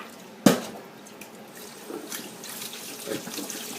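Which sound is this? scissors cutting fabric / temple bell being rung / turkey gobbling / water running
water running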